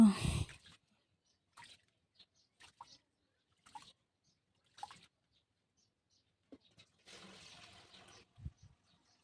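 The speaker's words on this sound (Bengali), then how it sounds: "তো দেখো চালটা ধুয়ে নিচ্ছি আমি।" Rice being washed by hand with lukewarm water: faint, scattered small splashes and clicks, then a brief, steadier pour or swish of water near the end, all fairly quiet and close.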